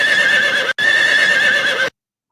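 A horse whinnies loudly and steadily for nearly two seconds, broken by one very brief gap, then cuts off into silence; no hoofbeats stand out.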